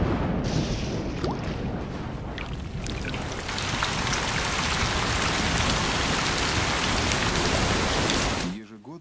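Heavy rain pours down in a dense, loud, steady roar across a South African wild landscape, holding constant before fading at the very end.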